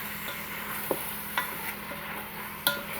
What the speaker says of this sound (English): So just breaking up some of that brown sugar right there, just get that melted down.